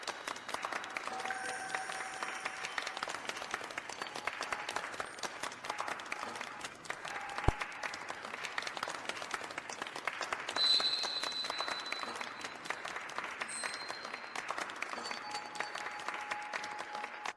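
Wedding guests applaud as the groom is invited to kiss the bride, sustained dense clapping from a crowd at moderate distance, steady throughout with a few brief louder spots.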